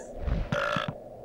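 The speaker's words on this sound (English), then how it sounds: "A farting and burping chicken" A cartoonish chicken from the video game Glover lets out a short grunting belch with a brighter, buzzy tail, followed by a few low thumps, close and fairly loud with no talk over it.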